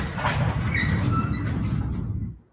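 A Tube Sim video game train rumbles past with a low steady roar, brief squeals and screeches layered on top, fading out quickly at the end; no one talks.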